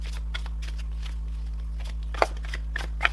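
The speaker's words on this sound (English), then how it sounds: "Let me give it one good shuffle." A deck of tarot cards shuffled by hand, with soft riffling flutters and a few sharper snaps near the end, close and fairly quiet over a low steady hum.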